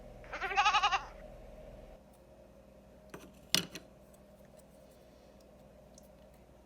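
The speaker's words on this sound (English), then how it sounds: "A goat says," A goat gives one short, wavering bleat with a rapid trembling pulse, then a quiet stretch broken by a couple of faint clicks.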